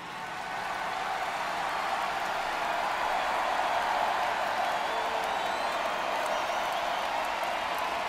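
A stadium crowd cheers and applauds in the MLB The Show 23 baseball video game during the playoffs, a steady, loud, broad roar of massed voices that holds evenly from start to finish.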